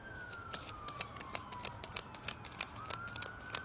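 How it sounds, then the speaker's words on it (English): An ambulance siren passes outside, faint and distant, its wailing tone sliding slowly down and then rising again beneath a steady wash of background noise and scattered clicks. "The ambulance."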